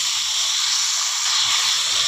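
Chopped ivy gourd sizzling in hot oil with mustard seeds in a pan, a loud, steady, close hiss of frying that runs unbroken with no talking.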